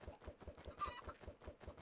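Blocky in-game chickens in SevTech Ages Minecraft cluck from a large flock, producing rapid, evenly repeated low clucks in a steady rhythm, quiet and close.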